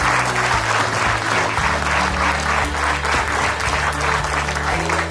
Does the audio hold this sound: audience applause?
yes